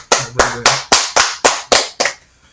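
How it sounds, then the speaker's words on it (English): Eight slow, sharp hand claps in an even rhythm, close and loud, the last one trailing off into quiet; no talk over them. "Clapping, you know."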